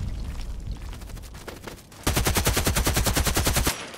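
An AK-12 assault rifle fires in the video game Contract Wars: a few scattered shots, then a loud, rapid automatic burst of evenly spaced reports lasting about two seconds, close and dominant with no talk.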